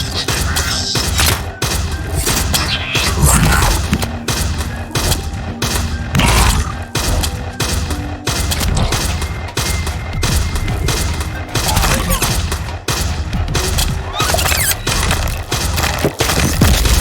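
Shotgun blasts in the arcade game Blazing Beaks, a steady barrage of punchy shots repeating every fraction of a second over busy game music, loud and continuous throughout.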